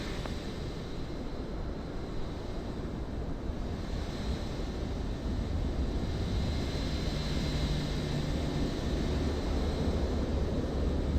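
Steady broadband roar of a jet airliner's takeoff roll in a flight simulator at Winnipeg, building slightly in loudness over a constant rushing background, with no talking.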